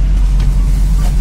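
A car engine that has just started runs with a loud, close, low rumble for a brief moment.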